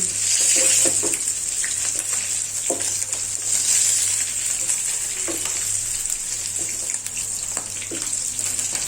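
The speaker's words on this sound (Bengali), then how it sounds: "মাছগুলো ভাজা হয়ে গেছে, এবার মাছগুলোকে তুলে নিচ্ছি।" Fried katla fish pieces come out of hot oil in a pan, a steady bright sizzle with faint clinks of a utensil running throughout.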